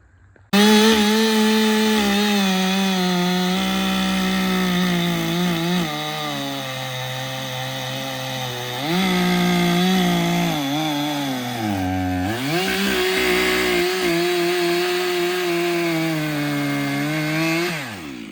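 A Stihl MS362 chainsaw roars steadily for the whole stretch, its pitch dipping and rising as it bites into wood, loud and close with no talking.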